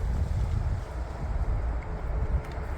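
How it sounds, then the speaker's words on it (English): A narrowboat engine chugs steadily, a low continuous rumble with wind buffeting the microphone, no voices over it. "the thing about the engine noise is, you know, it's not as bad as you would imagine"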